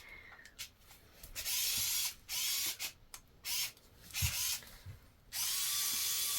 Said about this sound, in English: That is a resin mixer.